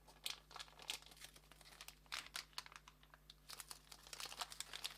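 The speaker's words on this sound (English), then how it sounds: "Okay, I'll just have to rip this open." Plastic eBay postage bag being torn and ripped open by hand, a quiet run of crinkling, crackling bursts that come and go irregularly up close, with no talking.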